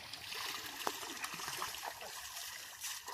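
A bull named Chameli swims in a pond, and faint splashing and trickling of water carry from a distance, quiet and irregular, with soft murmurs of background voices.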